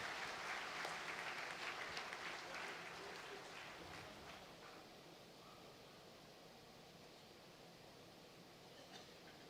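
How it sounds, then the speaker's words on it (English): An audience applauds at a college Foundation Day ceremony, a broad wash of clapping that is strongest at the start, then slowly thins and fades to a quieter, hissy tail. "please join me in applauding sir for his remarkable achievement"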